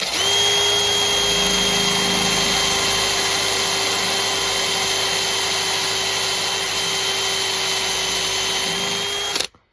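A power drill bores 4mm holes in acrylic, a loud, steady high whine that runs almost continuously for about nine seconds up close and then cuts off abruptly.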